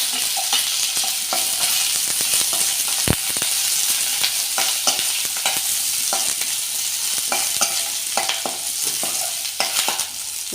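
Onions fry in hot oil with mustard seeds and curry leaves in a pan, a steady loud sizzle broken by frequent scraping stirs and one sharp knock near the start, with no voices.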